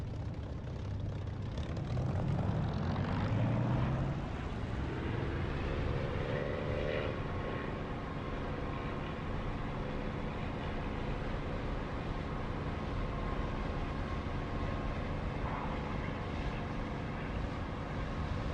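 A Spitfire engine in the DCS flight simulator throttles up for takeoff, the loud propeller roar rising in pitch over the first seconds, then holding a steady, powerful drone.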